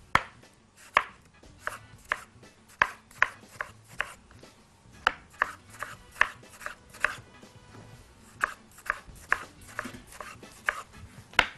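A knife chops tomatoes into small cubes on a board, a long run of crisp, fairly regular thuds close by, steady and unhurried, with no voices over it.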